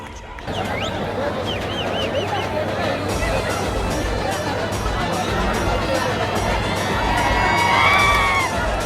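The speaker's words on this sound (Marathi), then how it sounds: "टाळ्या बाजून सर्वच प्रेक्षक या ठिकाणी प्रोत्साहन देत आहेत" A large outdoor crowd at a Dahi Handi festival in Satara roars and cheers steadily, with shouting children and a babble of voices, swelling slightly louder toward the end.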